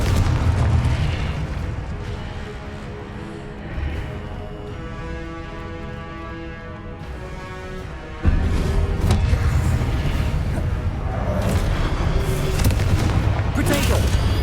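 A Confringo blasting spell fired in Hogwarts Legacy bursts into a loud, booming explosion about midway, its rumble sustained over a dense bed of game music and effects.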